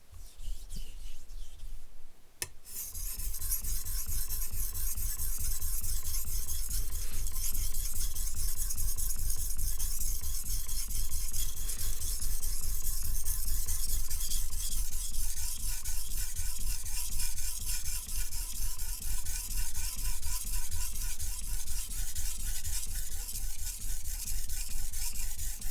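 A nakiri knife rasps steadily as it is drawn back and forth across a sharpening stone, a continuous close gritty scraping after a brief pause near the start.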